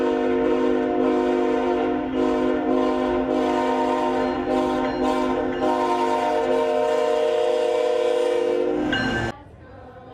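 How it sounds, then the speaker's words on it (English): A loud, sustained multi-tone train horn blares steadily for about nine seconds from a passing train in Pulaski, Virginia, then cuts off abruptly, leaving faint rumble. "where even the passing trains get into the Christmas spirit"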